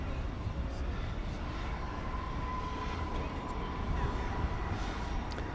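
A Volaris Airbus A321neo lands at DFW after dark, heard as a steady broad engine roar with a faint whine, constant and moderately loud throughout, with no talking.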